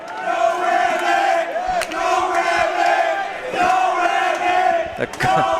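A mixed martial arts crowd cheers and shouts for the fighter Rabbit, a loud sustained roar with chanting voices swelling and dipping throughout, a few sharp bangs cutting through.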